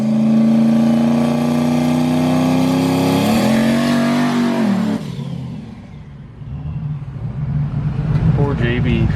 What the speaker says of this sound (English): He's gonna put it in gear and rip a dinger in the soaking wet.